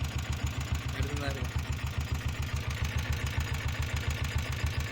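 A diesel Bullet motorcycle engine idles steadily up close, its low rhythmic thumping pulsing evenly throughout, with brief faint background noise.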